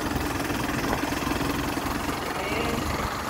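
A motorcycle engine drones steadily and loudly on the freshly resurfaced, still-slippery asphalt of Pancing circuit in Medan during a race, holding a constant roar throughout.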